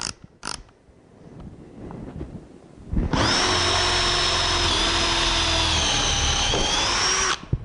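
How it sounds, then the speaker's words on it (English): A power drill boring a hole starts abruptly after a quiet stretch with a few faint knocks, then whines steadily and loudly for about four seconds with a slight pitch shift before stopping. "Let's drill this hole."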